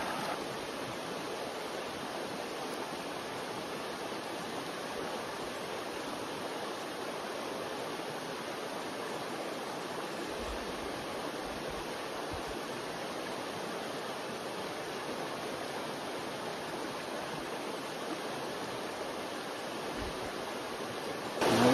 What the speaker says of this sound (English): So I can get some water from this river and not have to worry about it.